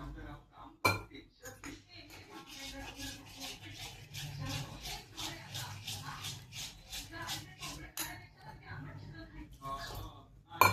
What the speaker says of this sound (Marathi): आता आपण हे पाणी टाकून मिक्स करून घेऊ व्यवस्थित।